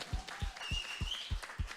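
Steady clapping with a regular beat, about six claps in under two seconds, at moderate level with some background noise.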